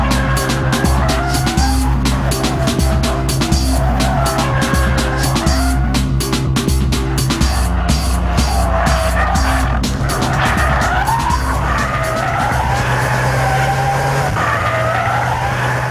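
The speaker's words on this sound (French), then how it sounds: "En 2 tours de circuit, la M5 a brûlé un train de pneumatiques" BMW M5 F10 with a V8 drifting on a circuit, loud engine revving up and down under continuous squealing tyres, wavering screeches and roaring throttle throughout, close and sustained.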